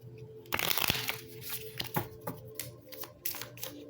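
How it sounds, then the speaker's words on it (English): Tarot cards being shuffled by hand, a run of dry riffling and flicking slaps with a louder burst early on, close and fairly quiet, no talk. "Now we're going to shuffle again."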